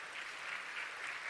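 Audience applause for a pesantren student orchestra, a faint, distant wash of many clapping hands rising and falling slightly over a second or so, with no voices over it.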